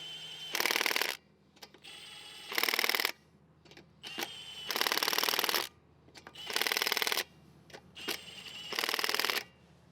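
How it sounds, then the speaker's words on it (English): Cordless impact wrench on its lowest power setting runs lug nuts down on a Subaru wheel in six bursts of about half a second to a second each, loud and close, with quiet pauses between. "No, I'm not impacting these on, I'm just running the lugs down. This is on power mode 1, which is only like 25 foot-pounds."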